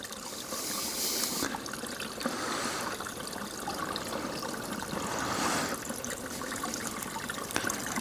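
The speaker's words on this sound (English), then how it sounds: "But we're literally right next to the stream." A clear stream flows close by with a steady, full trickling and babbling rush of water that holds constant throughout, loud and near, with no voices.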